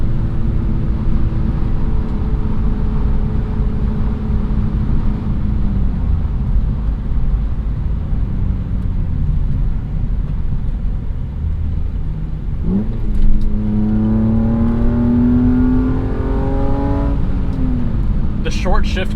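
A 1998 BMW M3 E36 engine drones steadily while being driven through corners, then its pitch climbs noticeably as the revs rise toward the end.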